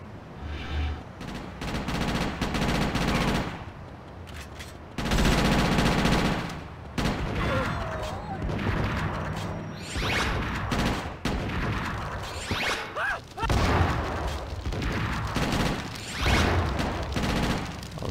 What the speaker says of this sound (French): Fusil à canon scié.